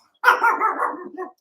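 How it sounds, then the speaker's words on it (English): A dog gives a short burst of barks up close, a loud rough bark trailing into a couple of quick follow-up woofs. "Don't know if y'all can hear me for the dog."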